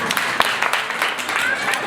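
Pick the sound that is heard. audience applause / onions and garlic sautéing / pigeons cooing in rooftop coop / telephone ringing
audience applause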